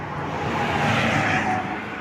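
A Royal Enfield motorcycle, a touring bike on a long Kerala-to-Kashmir ride, gives a steady, fairly loud broadband roar that swells slightly mid-way through two seconds, with no talk over it.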